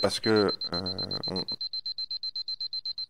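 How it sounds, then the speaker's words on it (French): An electronic alarm goes off with a rapid, regular series of high beeps, first under a man's speech and then alone. "c'est une alarme, ne vous inquiétez pas."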